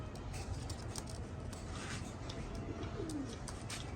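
A pair of Batera pigeons gives soft, low coos against a constant ambient hum, with faint rubbing sounds and no speech.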